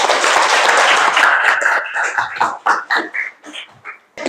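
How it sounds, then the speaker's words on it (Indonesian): Applause in a classroom as students clap together, loud dense clapping at first that thins out into scattered, uneven claps and stops toward the end. "bisa beri aplaus dulu"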